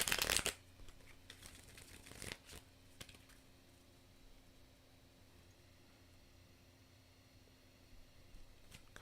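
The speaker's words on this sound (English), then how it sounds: "one last shuffle." A deck of tarot cards is shuffled in a quiet room, with a burst of riffling at the start, a few short papery flicks after, and then near silence.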